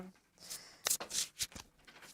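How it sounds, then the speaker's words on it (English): Tarot cards shuffled by hand in a series of quick papery riffles and slaps, close and fairly soft, with a few sharper bursts and no talk. "as well as shuffle the cards while we"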